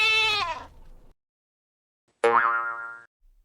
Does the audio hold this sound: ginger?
no